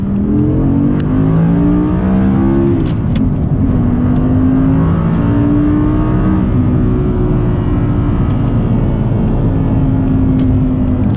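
A loud Audi R8 V10 with a manual gearbox revs hard and accelerates, its pitch climbing through gear changes in a sustained, roaring pull.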